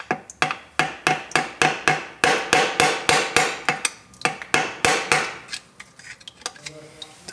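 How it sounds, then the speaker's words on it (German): Repeated sharp metallic hammer blows strike a small ratchet to break loose an overtight oil drain plug on a Mercedes transmission, about twenty strikes in a steady fast rhythm, close and loud, slowing toward the end. "Mit der kleinen Ratsche hier und mit dem Hammer dagegen geschlagen, wie so eine Art Schlagschrauber."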